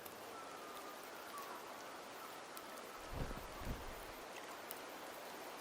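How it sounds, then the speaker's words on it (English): Steady rain falls across a game world in Septimont, a soft continuous hiss with a couple of low rumbling swells near the middle and no voices. "The rains in Septimont never seem eager to leave this season."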